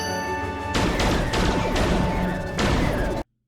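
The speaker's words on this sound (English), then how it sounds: "Torpedoes away." Star Trek torpedo launch effect, a dense burst of repeated booming whooshes firing in quick succession over a steady ship hum, loud and close, cutting off abruptly at the end.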